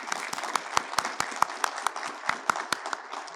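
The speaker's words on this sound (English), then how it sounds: "Can we please give Colonel Mixon a round of applause?" An audience at a regional growth meeting at Fort Liberty gives a round of applause for a colonel. Moderate clapping from a modest crowd, with individual sharp claps standing out, keeps an even level throughout.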